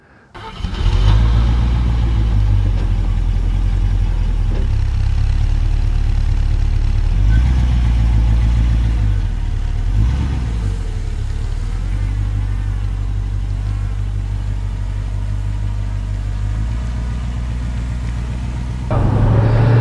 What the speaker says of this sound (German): Die Maschine läuft seidenweich